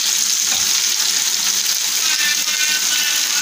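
Fish frying crisp and uncovered on a flat tawa, coated in masala with rava and rice flour: a steady, loud, continuous sizzle with fine crackling close by, and no talk.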